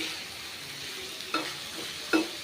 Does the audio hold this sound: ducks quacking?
no